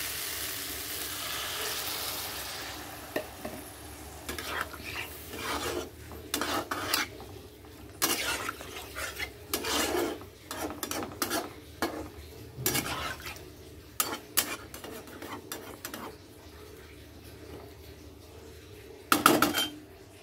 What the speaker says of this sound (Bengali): কড়াইতে নেড়ে ছেড়ে নিচ্ছি